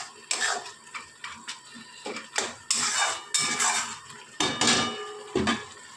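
Chicken being stirred and fried in a pan with gandharaj lemon juice, irregular metallic scrapes and clatters of a utensil against the pan over a soft sizzle, close with no talk.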